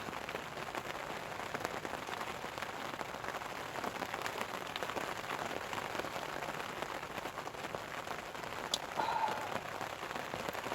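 Soft, steady patter of rain falling on a surface, a constant fine hiss with scattered drops, quiet and unbroken throughout.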